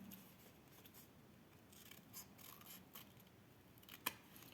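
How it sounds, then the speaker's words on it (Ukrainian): Scissors snipping the corners off a large paper square for a snowman appliqué craft: quiet close snips and rustles of paper, ending in one sharper cut. "спочатку я беру великий квадрат і буду відрізати кути"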